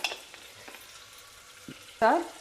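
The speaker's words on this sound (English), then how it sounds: "Lightly fry the onions in the oil for about 1 or 2 minutes." Onions fry lightly in oil in a pan with a soft, steady sizzle, broken by a few stirring taps and a sharper scrape of a utensil near the end.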